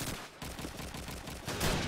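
Gunfire in Call of Duty 2 on the Burgundy map during a competitive match, a few sharp shots cracking in quick succession over steady game ambience.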